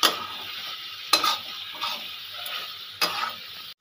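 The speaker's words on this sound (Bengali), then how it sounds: "আমি আরও 1 মিনিট ভালো করে কষিয়ে নেব।" Masala with a little garam masala sautés in a pan, a soft sizzle broken by a few sharp scraping stirs of the spoon, close and without speech.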